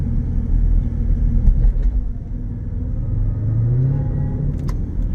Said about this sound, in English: You have an aftermarket intake, so you can really hear that whine.